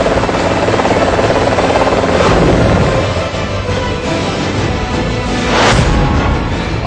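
A helicopter's rotor thumps steadily and loudly overhead, a dense continuous roar with slight swells in intensity throughout.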